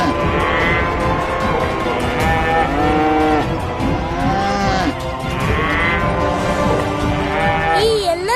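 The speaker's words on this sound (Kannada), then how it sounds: "ಈ ಎಲ್ಲ ದನಗಳು ಯಾಕೆ ಹೀಗೆ ಹೋಗ್ತೀವಿ?" A herd of cattle in Vrindavan moos repeatedly as it moves away, long overlapping calls rising and falling close by, one after another, with steady rustling behind them.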